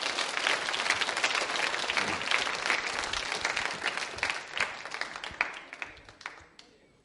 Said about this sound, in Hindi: इस जानकारी के लिए बजा सकते हैं तालियां जोरों से आप